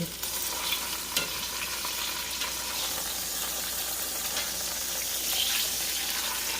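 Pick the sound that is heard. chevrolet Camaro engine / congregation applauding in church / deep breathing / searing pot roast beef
searing pot roast beef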